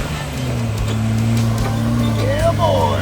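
A Jeep engine labors off-road while climbing a rocky ledge, a steady low drone with a rising whine toward the end as the tires may be spinning, heard up close.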